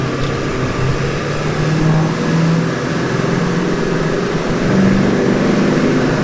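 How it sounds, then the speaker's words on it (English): A 2002 Ford F350 Power Stroke diesel pickup engine drones loudly at a constant pitch, close by, with no clear revving swells. "Let y'all hear the Power Stroke, because it is a really cool sounding motor."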